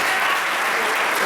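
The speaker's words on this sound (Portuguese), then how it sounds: "Deus, a salva de palmas." Congregation clapping at an Easter church service, a dense continuous wash of hands filling the whole short moment without pause.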